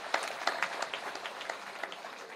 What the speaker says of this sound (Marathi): एवढ्या जाणीवा ज्यांना आहेत त्या महिला टाळ्या कदाचित वाजवतील